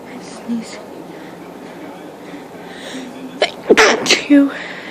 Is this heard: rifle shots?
no